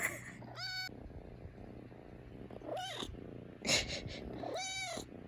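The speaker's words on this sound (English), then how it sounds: "And he won't stop purring." A cat purrs steadily and closely throughout, with several drawn-out meows breaking in at intervals over the low rumbling purr.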